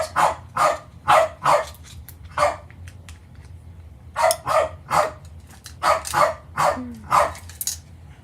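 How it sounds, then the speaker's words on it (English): A dog barks repeatedly in quick bursts of two or three, with a short pause midway, loud and nearby with no talking. "he's trying to bark at her to get her to engage"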